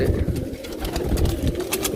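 Pigeons, including paired birds, coo in soft repeated throaty bursts close by, several overlapping calls in a loft with a faint background rustle and no speech.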